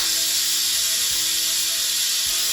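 A steady, loud hiss of steam escaping from a Crockpot Express pressure cooker being depressurized, continuous and unbroken, with faint clicks underneath.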